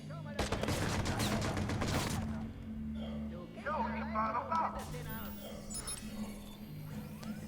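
Rapid gunfire in the open-world game Watch Dogs, a dense burst of shots for about two seconds followed by scattered sharper cracks and game noise, with someone talking over it.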